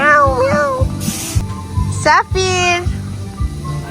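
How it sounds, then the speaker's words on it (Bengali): A peacock at a Paris garden park lets out loud, cat-like meowing wails in several close calls, with children and adults talking and chattering around it. "ময়ূর ডাকে বিড়ালের মতো, মিয়াও মিয়াও।"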